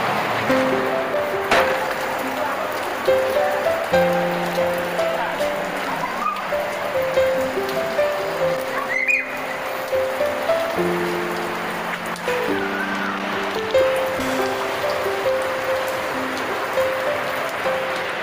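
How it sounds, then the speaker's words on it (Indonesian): Rain falls in a steady broadband hiss, partly masked by background music playing throughout. "Hujan pula ini."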